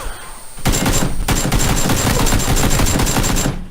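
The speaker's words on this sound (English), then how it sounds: "I'll just shoot at him." Automatic gunfire in the video game PUBG, a loud, sustained burst of rapid shots lasting about three seconds with no talk over it.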